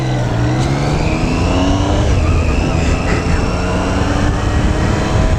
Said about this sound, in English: The sound of a 3-cylinder engine.